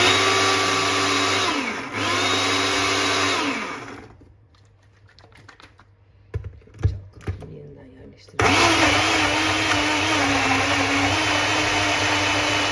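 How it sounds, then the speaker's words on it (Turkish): A blender pureeing food whirs loudly for several seconds, cuts out briefly during some clattering and handling, then starts up again and runs steadily. "Şimdi blenderdan geçiriyorum"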